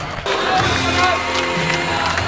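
Handball fans celebrate a 2004 cup final win by KA, with a loud, dense wash of crowd cheering and clapping from a packed arena. It swells suddenly after a brief lull and holds steady to the end.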